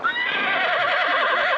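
Race horses neighing and whinnying loudly and continuously, shrill cries close by and stacked over one another as the animals fight, with a faint clip-clop of hooves underneath.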